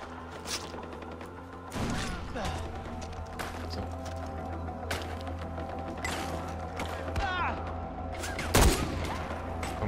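Gunfire in the video game Far Cry 4, scattered pistol shots and bursts with a louder blast near the end, under a steady game soundscape, with someone talking at times.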